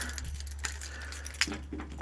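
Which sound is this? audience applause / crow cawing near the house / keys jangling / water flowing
keys jangling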